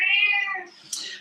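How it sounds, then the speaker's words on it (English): A pet cat lets out one drawn-out, clear meow that falls away, then gives a short, sharper follow-up cry, both close and loud in a quiet room. "cats, they have their own minds"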